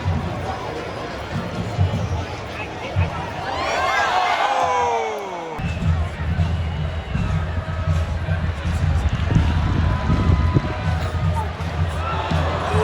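Stadium crowd at a Louisville City FC soccer match, a broad steady roar of many voices with scattered cheers and whoops, close and loud throughout, with talk mixed into the noise.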